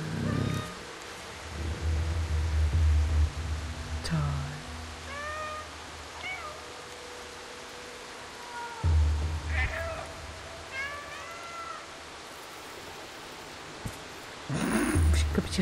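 A cat meows several times in the video game Stray, short rising calls spread across the stretch over soft ambient game noise, with a low rumble and a person talking now and then.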